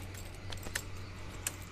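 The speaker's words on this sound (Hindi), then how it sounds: "अच्छा गाड़ी की चाबी तो ले लें। चाबी तो दो भाई यार। चाबी ले लिए।" Car keys jangling, a few sharp metallic clinks and rattles standing out over a low steady hum, close by and with no talking.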